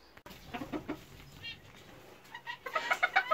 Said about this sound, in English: That's my one of my Belgian bantams.